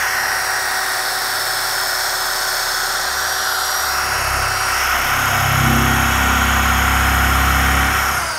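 A UDOS 51E random orbital polisher with a 12 mm throw runs steadily and loudly throughout, its motor pitch shifting and dropping as it is pressed down and bogged under load.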